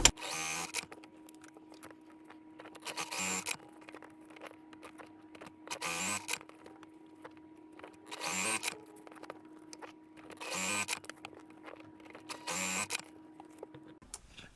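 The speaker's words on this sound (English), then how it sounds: "And now we'll go sew those." A sewing machine stitching quilt pieces, running in repeated short bursts of whirring about every two to three seconds, with a faint steady hum and quiet pauses between bursts, heard up close with no talking.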